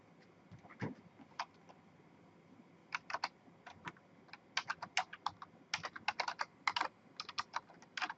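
Computer keyboard typing while reading server logs in a lab, heard as irregular bursts of crisp, close key clicks with short pauses between flurries.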